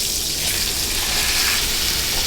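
Skin-on meat sizzling skin side down in a pan of hot butter, with a steady, dense crackle of frying that runs unbroken and fairly loud throughout, with no talking.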